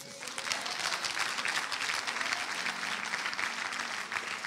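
A church congregation at a prayer and prophetic service claps for the Lord, dense steady applause filling the room, fairly faint and distant-sounding, with no voice over it.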